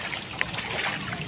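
A Honda XRM motard motorcycle rides through flood water in Metro Manila, giving a steady, close rush of churning water and wind noise. No distinct engine note stands out.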